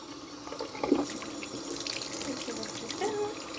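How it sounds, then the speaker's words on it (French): Tap water running steadily into a baby's bath, a continuous soft splashing stream at moderate distance, with faint speech and small clinks in the background. "on fait un petit peu couler l'eau aussi déjà pour que le bain il se remplisse"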